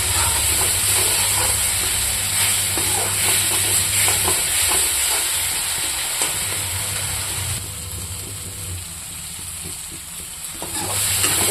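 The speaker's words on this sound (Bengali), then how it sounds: "দেখুন বন্ধুরা, মশলাটা ভাজা হয়ে গেছে।" Spice masala frying in oil for paneer curry makes a continuous close sizzle and hiss, broken by scattered stirring clicks and scrapes, with no talking.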